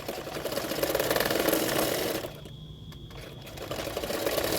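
A sewing machine stitches a katori (cup) section of a size 36 double katori blouse with a half-inch margin, a steady fast mechanical whir that runs, dips briefly, then resumes close by.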